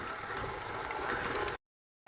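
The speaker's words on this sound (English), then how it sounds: "So I've turned the mixer off." An electric mixer runs steadily with a dense, grinding whir for about a second and a half, then cuts off abruptly into silence.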